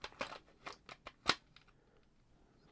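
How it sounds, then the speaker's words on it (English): A 1980 Sanyo MGP30 cassette player takes a tape: a few sharp plastic clicks and clacks close up, the loudest snap near the middle, then quiet. "Let's put a tape in."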